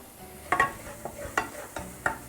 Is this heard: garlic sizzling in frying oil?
yes